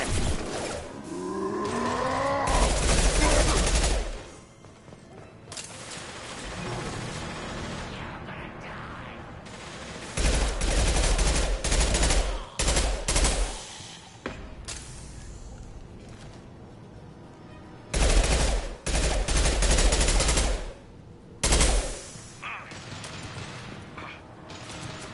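Bursts of gunfire in the Mass Effect 2 video game, with loud rapid clusters of shots separated by quieter stretches of mechanical clatter and ambience, repeating through the scene.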